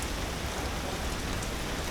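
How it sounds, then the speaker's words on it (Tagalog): Morning rain falling in Bohol province in the Philippines, heavy enough to flood the roads, makes a steady, dense hiss of drops with no pauses and no voices. "Umuulan ng umaga ngayon namin."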